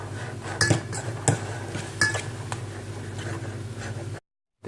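Burrito filling being stirred in a pan over low heat, with a utensil clinking and scraping against the metal in irregular taps and knocks over a soft background hum, ending in a brief silence.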